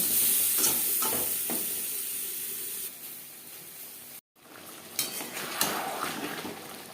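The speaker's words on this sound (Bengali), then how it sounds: "আলু আমি হালকা করে ভেজে নেব" Boiled potatoes fry lightly in a pan for an aloo chicken curry, giving a soft, steady sizzle and hiss with occasional stirring scrapes, fairly quiet and close, broken by a brief gap.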